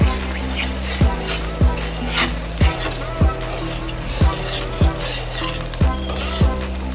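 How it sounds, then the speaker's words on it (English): Jamaican tin mackerel rundown is stirred in a pot, a spoon scraping the pot in a regular rhythm of about ten strokes over a constant frying sizzle, no speech. "let's go ahead and stir it up"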